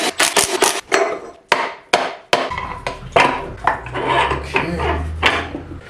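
Tools working on bolts of a Lexus AWD transmission and transfer case, a series of sharp close metallic knocks and clanks, irregularly spaced, followed by scraping and rattling.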